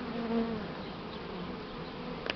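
A honeybee swarm flies into a swarm box, a dense, continuous buzzing of many bees close by with a slight shift in pitch as individual bees pass, heard alone.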